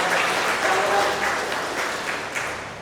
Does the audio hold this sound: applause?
yes